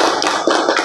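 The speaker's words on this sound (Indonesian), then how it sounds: "Boleh tepuk tangan untuk kita semua?" An audience claps hands in a short, loud burst of quick sharp claps, heard up close and sounding sparse rather than like a full crowd, with no talk over it.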